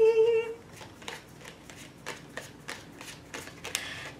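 Tarot cards being shuffled and pulled, a rapid series of crisp riffling flicks and slaps in an irregular rhythm, close and moderately quiet, with a brief tone at the start.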